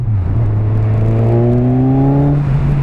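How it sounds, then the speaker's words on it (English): A close 2017 Kawasaki Z1000 motorcycle engine drone rising in pitch with a throaty, breathy intake note as the throttle opens, smooth and sustained for a few seconds. "A lovely intake noise, lovely intake noise."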